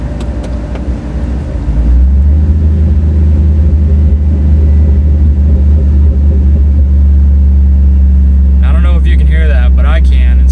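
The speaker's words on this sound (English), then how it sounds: "Give you a little bit of a downshift clip coming up here." A car downshifts from 50 on an off ramp, its engine rising into a loud, steady low drone with a whine that builds, heard from inside the cabin; a voice speaks briefly near the end.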